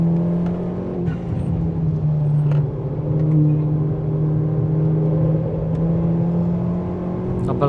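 A Stage 2+ Ford Fiesta ST180 on a hot lap at the Snetterton track day, heard from inside the car: a loud, sustained engine drone under full throttle, with pitch shifts at gear changes early on and a steady high-revving whine after.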